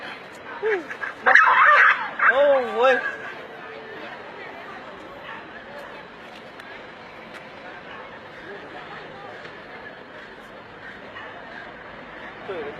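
A dog barks and yips in a short excited burst near the start, then fades behind steady background noise, with people talking over it.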